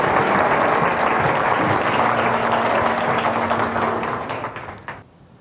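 Audience applause welcoming speaker John Argue at a Parkinson's disease lecture: dense, sustained clapping from a crowd that holds steady, then thins and fades away over the final second.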